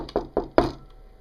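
Three sharp knocks in a quick, slightly uneven rhythm, heard close and loud, the last one strongest with a brief ring-out afterward.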